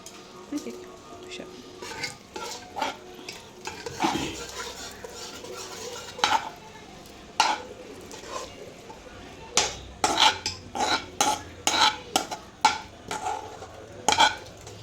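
Cooked legumes tipped into a cooking pot and stirred for a North Karnataka pundi gasi curry, with repeated sharp clinks of a spoon against the metal pot over a soft background hiss, spaced irregularly and growing busier toward the end.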